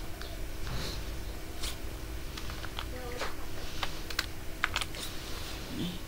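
Someone types on a computer keyboard while entering text into a PowerPoint slide, producing scattered, moderately close key clicks in uneven bursts over a faint steady hum.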